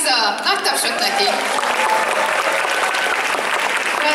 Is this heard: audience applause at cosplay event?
yes